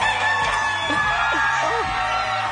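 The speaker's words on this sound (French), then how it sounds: "Le coq a chanté, ce qui veut dire qu'on choisit un deuxième œuf." A rooster crow sound effect rings out on a French-language egg-picking TV game show, loud and close over a steady studio background.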